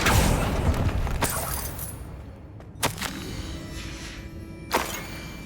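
Confringo blasting spell impacts in Hogwarts Legacy, a rumbling burst followed by two sharp, crackling hits with whooshing tails amid game ambience, no voices.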